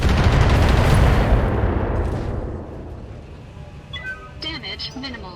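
Missile volleys in the mech video game BattleTech: a loud rumbling barrage of launches and blasts that fades out over a few seconds, followed by faint game effects.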